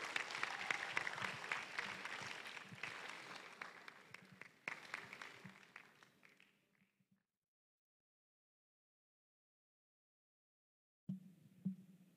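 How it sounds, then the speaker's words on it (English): At an inaugural university lecture, an audience applauds loudly, then the clapping thins and fades out into silence before a short burst of claps returns. "Let's continue to applaud him."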